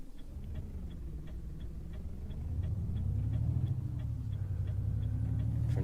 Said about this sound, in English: Indicators are very loud in this truck.